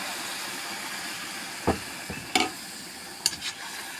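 Water splashed into a pan of frying vegetables on a home stove, giving a few short bursts of hissing sizzle and stirring clatter over a low background of frying.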